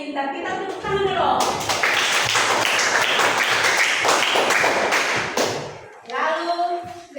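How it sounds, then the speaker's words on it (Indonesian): Schoolchildren in a classroom clap their hands together in a loud, rapid, dense burst lasting several seconds. A speaking voice comes just before it, and voices follow as it stops. "Kita tepuk tangan dulu."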